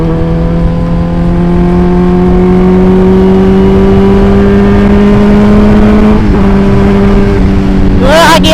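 A big motorcycle engine revs loudly and close, with a sustained droning tone that climbs steadily in pitch and ends in a sharp burst.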